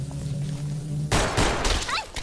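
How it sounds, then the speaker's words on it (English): Gunfire erupts suddenly in Garry's Mod, a loud burst of overlapping shots after a quieter hum, with the clatter continuing and a voice briefly heard. "Oh shit, who's shooting at me?"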